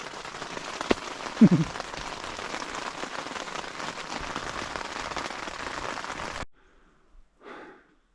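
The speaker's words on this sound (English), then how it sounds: "it's still lightly raining, but oh, it's damp and cold" Light rain pattering steadily and close outdoors beside a campfire for several seconds, then cutting off abruptly into near silence with a faint breath or rustle.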